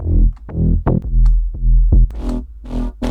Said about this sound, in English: So very artificial sounding basses